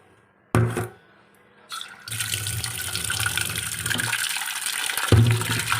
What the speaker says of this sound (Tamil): இந்த உருளைக்கிழங்குக்கு தேவையான தண்ணியை வந்து நம்ம சேர்த்துட்டு